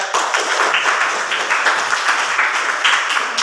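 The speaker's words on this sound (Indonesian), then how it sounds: "Beri aplaus atau tepuk tangan untuk teman kalian." Classmates clapping for their peers in a classroom, a loud, dense burst of many hands applauding continuously throughout.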